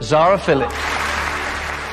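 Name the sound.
studio audience applause at a TV awards broadcast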